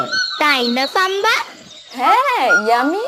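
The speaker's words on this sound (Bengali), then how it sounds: "কি সুন্দর পাখি ডাকছে" Cartoon birds sing in a village scene, bright whistled chirps and warbling calls close and clear, mixed with a voice talking over them.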